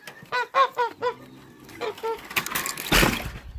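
Several domestic geese honk in a quick burst close by as they are let out of their pen, then a few more honks follow among shuffling noises and a brief splash-like rush.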